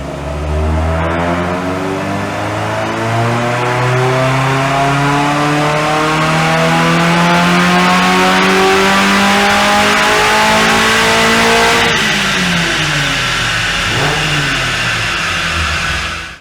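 A Mazda MX-5 NC engine revs hard and steadily on a dyno, pitch climbing for about twelve seconds before dropping sharply as it winds down; loud and close, no voices.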